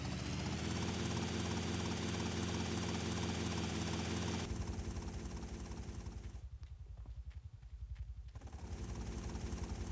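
Helicopter flying in a multiplayer shooter match, its rotor and engine drone steady and loud throughout, briefly thinning midway before returning, with no talk over it.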